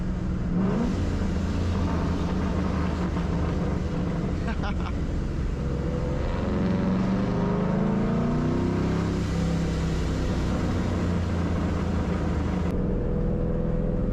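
A supercharged Mach 1 Mustang engine roars continuously while driving uphill on a mountain road, rising and falling in pitch as it accelerates and shifts under load, heard from inside the car with a voice talking over it.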